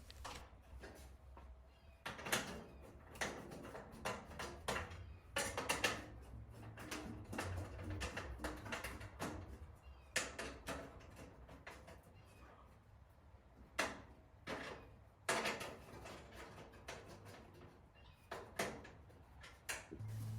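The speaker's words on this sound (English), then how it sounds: "Now attach all 4 bolts to all 4 legs." Bolts are fitted to the legs of an outdoor gas fireplace, giving scattered close metallic clicks, knocks and rattles of hardware and parts being handled, irregular bursts over quieter background.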